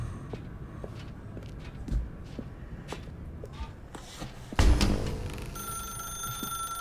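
A telephone rings in the video game The Stanley Parable, a bright bell-like burst arriving partway through over a background of footsteps and room noise, then trailing off with a lingering tonal ring.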